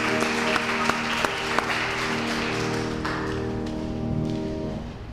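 An audience applauds steadily, a broad wash of clapping with a few sharper claps standing out early before it fades slightly toward the end, while a sustained tone hums underneath.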